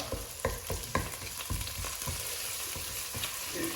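Crab curry sizzling and frying in a pan with onions and bay leaves, a steady crackle broken by several sharp stirring scrapes and clatters in the first two seconds, close and moderately loud, with no voices.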